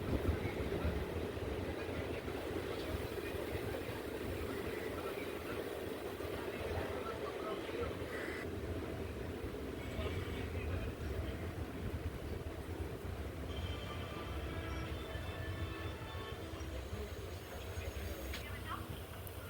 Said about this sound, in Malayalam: Chirayinkeezhu railway station platform number 1 നിന്ന് ട്രെയിൻ അങ്ങനെ എടുക്കുകയാണ്.